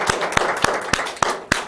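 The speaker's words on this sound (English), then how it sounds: "Can we have a round of applause for this young man?" Scattered audience clapping at a history talk on the War of 1812, sharp separate claps about every quarter second over a roomy background wash.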